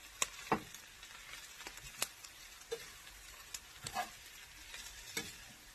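Jalapeno pepper wings frying on low heat in a lidded pan, giving soft scattered sizzles, pops and small clicks, faint and muffled, with no voices.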